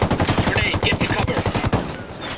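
Rapid automatic gunfire crackles in Ghost Recon Wildlands, a fast steady burst of loud close shots with a few sharper reports mixed in, tapering off at the end.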